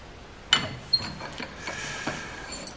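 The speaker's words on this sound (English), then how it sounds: "I think I should be able to squash it in a vise a little bit" A thin steel piece for a metal spider being squashed in a bench vise, giving several sharp creaks and metallic clicks spaced irregularly over quiet background, close and moderately loud.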